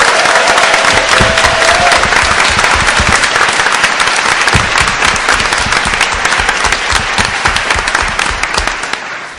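A conference audience at ROFLCon II in 2010 claps steadily and loudly for the volunteers, a dense, sustained wash of applause that slowly tapers off toward the end.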